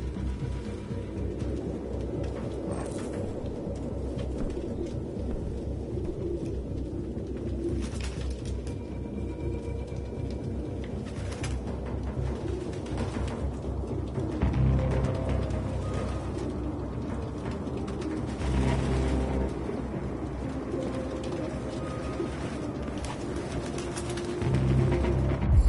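Pigeons coo steadily through a game scene in Detroit: Become Human, layered soft calls and occasional wing flutters over a low, constant ambient hum, with no one speaking.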